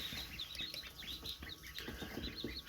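Freshly hatched baby chicks just out of an incubator, peeping continuously as a chorus of high chirps, with a mixed flock of chickens clucking and shuffling nearby at close range.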